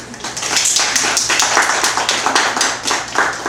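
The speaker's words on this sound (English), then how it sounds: "Please give them a round of applause." An audience at a bookstore book signing gives a round of applause for the staff, dense overlapping hand claps that hold steady and fairly loud for a few seconds before beginning to taper.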